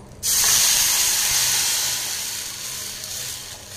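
Loud, steady sizzling as a rasam spice mixture hits hot oil, a sudden burst of hissing that settles into a continuous crackle, with no talking.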